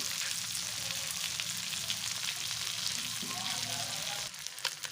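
Mackerel fillets fry in a pan with a dense, continuous sizzle close by, with a brief shift in the crackle near the end.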